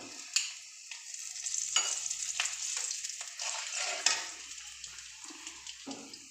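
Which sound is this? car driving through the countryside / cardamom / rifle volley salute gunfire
cardamom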